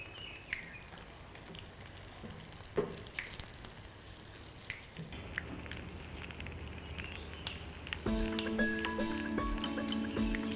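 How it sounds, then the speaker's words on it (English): Thai chicken and basil spring rolls deep-fry a few at a time in hot oil, a steady close hiss with bubbling crackles throughout, and music comes in toward the end. "You want to hear that sizzle and then you know it's ready."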